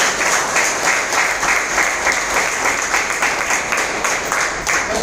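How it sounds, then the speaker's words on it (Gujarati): An audience at a company meeting breaks into strong, sustained applause, many hands clapping densely and loudly from start to finish without talk. "દિલથી જોરદાર તાળી"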